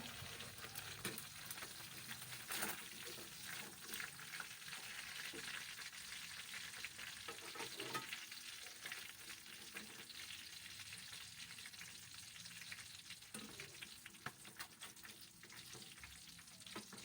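Chicken pieces frying in oil in a pan with no flour coating, a steady dense sizzle and crackle throughout with occasional stirring clatter, close and fairly loud.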